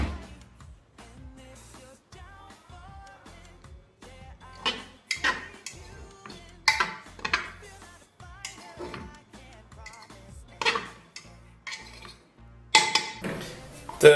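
A fork clinks against a pot and plate while pressure-cooked rice is served, making sparse bright metallic taps and scrapes in small clusters against a quiet background with a low hum.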